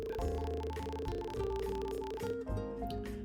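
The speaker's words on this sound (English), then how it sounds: "converting this to binary zeros and ones, and then playing with frequency" Encrypted text rendered as rapid binary tones, two pitches alternating quickly in a dense, steady electronic warble that continues without pause for a few seconds and ends with a brief shift in texture.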